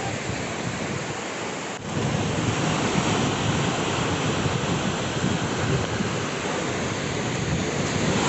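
Sea waves washing onto the beach at Digha, a steady loud roar of surf filling the scene without pause, no voices over it.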